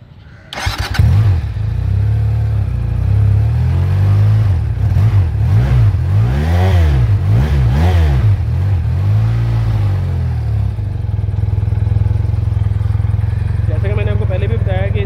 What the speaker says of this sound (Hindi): अभी बाइक को स्टार्ट करेंगे और चेक करेंगे इसके साउंड को